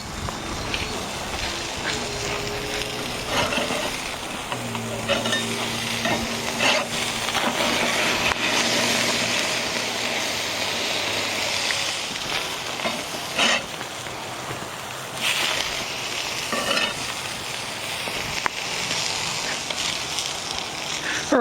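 Burgers sizzle and crackle over lump charcoal on a kamado-style grill outdoors, a steady close frying hiss with occasional pops and faint clinks, no talking.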